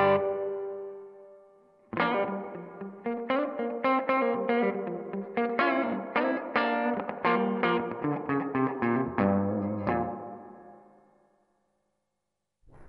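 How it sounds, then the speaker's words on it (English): An electric guitar plays through a Marshall Theatre Haze 40 combo amp with the reverb turned fully up: a steady stream of overdriven picked chords washed in heavy reverb, loud and close, ending in a long shimmering decay. "By taking the reverb all the way to the top"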